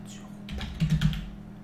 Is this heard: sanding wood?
no